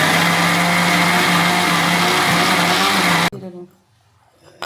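Mixer grinder grinding cardamom and green cumin together, a loud steady high-pitched whir that runs continuously, then cuts off abruptly, leaving quiet room noise.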